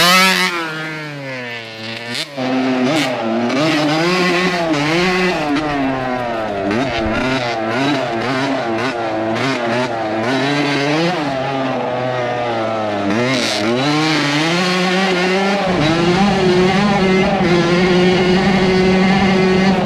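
A 1980s barn-find Kawasaki KX80 two-stroke dirt bike ripping a hot lap, loud and close, its high buzzing engine repeatedly revving up and dropping through gear changes with sharp bursts of acceleration.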